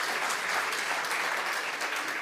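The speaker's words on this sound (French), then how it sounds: "Et je propose qu'on l'applaudisse" Steady applause from an audience in a hall, dense and even, sustained throughout without any voices standing out.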